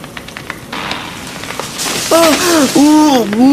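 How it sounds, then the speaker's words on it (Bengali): Heavy cartoon rain pours as a steady, dense hiss throughout, growing louder toward the end. A voice talks over it in the second half. No distinct thunder clap stands out. "কি জোরে বৃষ্টি শুরু হচ্ছে বাইরে"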